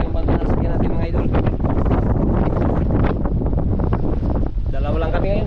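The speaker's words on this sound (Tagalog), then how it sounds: "Hangin na mga idol." Strong wind roars continuously across a microphone on a large fishing boat at sea, loud and buffeting throughout, with a faint voice briefly under it near the end.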